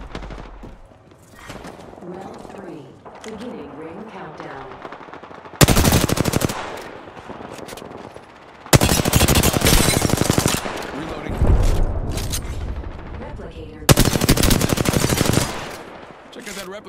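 Gunfire in the Apex Legends video game comes in three long automatic bursts, loud and close, separated by quieter stretches of game sound.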